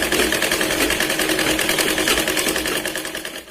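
A sewing machine stitches a katori blouse in a loud, fast, continuous run of rhythmic needle clatter and motor whir, slowing slightly at the end, with no talking.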